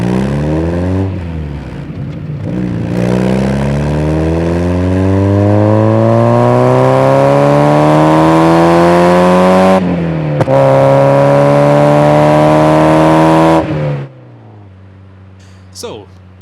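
A slow, low-powered Mazda MX-5 NA roadster engine pulls through rising revs in successive gears, loud and close, with a brief shift break before the engine drops to a quiet idle and then cuts.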